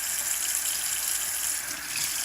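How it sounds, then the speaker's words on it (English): A smoothie bottle is rinsed under a running kitchen tap, a steady loud hiss of gushing water splashing inside the container throughout, with no voices. "I rinse it until it's totally clean."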